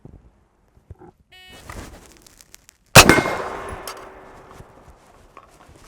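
A KP-15 rifle fires a single loud, sharp shot near the midpoint, its report ringing and decaying for a couple of seconds after quieter handling clatter.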